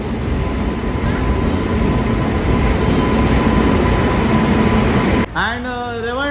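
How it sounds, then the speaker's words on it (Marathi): A crowded railway station fills with a loud, steady rumble as a train pulls in, then a voice speaks over the noise near the end. "आणि फायनली आम्ही आता निघतोय आणि ट्रेन पण लागली"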